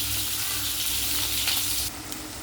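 Potatoes sizzling as they fry in oil, a close, dense crackling hiss that holds steady and then drops slightly softer near the end.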